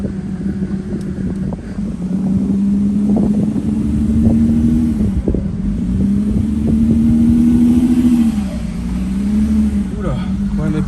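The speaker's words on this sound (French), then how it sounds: "j'ai la direction assistée qui fait un vieux bruit" An Audi A6 C5 2.5 V6 TDI engine drones with a whining power steering tone that rises and falls repeatedly, mixed with wind and rattling noise, and a voice talks over it.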